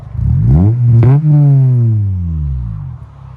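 A 2002 Acura Integra Type S with a manual gearbox and Skunk2 cat-back exhaust revs hard from idle, its pitch climbing sharply, peaking, then sliding back down in one loud, close blip before settling.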